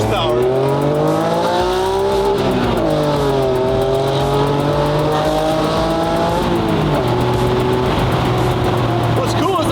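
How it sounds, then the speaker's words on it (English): A Honda NSX, a 280-horsepower barn-find car, revs loudly through its exhaust from inside the cabin, the engine note climbing and dropping through gear changes across the whole stretch, with people talking over it. "And the exhaust sounds pretty good."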